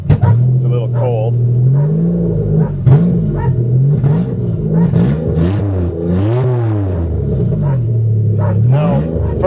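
A manual Toyota Camry, cold, is given revs while a learner eases out the clutch, with a steady engine rumble that rises and falls beneath continuous talk from people in the car.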